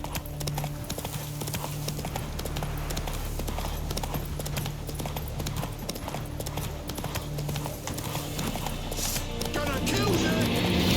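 In The Witcher 3, the horse Roach trots with steady, rhythmic clip-clopping hoofbeats, close and continuous, under game ambience that thickens near the end.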